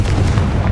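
A brief, loud fiery blast of the Confringo spell in Hogwarts Legacy, a dense rumbling burst with low booming weight that fills the short moment.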